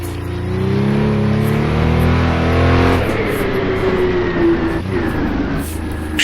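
USAC sprint car engine revving in the Assetto Corsa racing game, a loud rising engine note that drops at a shift, then climbs again and holds a high, steady whine.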